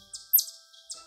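A chipmunk makes its territorial call from a low branch: three or four short, high chirps, one sharper and louder than the others, spaced unevenly across a second of near silence.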